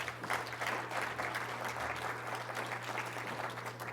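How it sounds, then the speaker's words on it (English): Audience applause for a panel at a management school showcase, a steady dense wash of clapping over a low hum, continuous for several seconds with no talk. "please give our panelists a round of applause"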